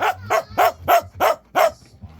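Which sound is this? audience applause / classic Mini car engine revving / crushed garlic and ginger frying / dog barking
dog barking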